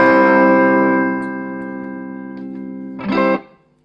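A sustained, distorted electric guitar chord through a Roland Cube 80X amplifier with reverb off rings out and fades dry with no echo, followed by a short, sharp second strum that cuts off quickly.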